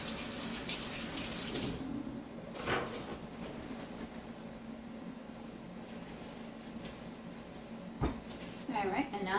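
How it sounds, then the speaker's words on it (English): Tap water runs steadily into a sink while vine tomatoes are rinsed under it, a close constant wash with a few splashy bursts near the end. "I'll just wash this off a little bit"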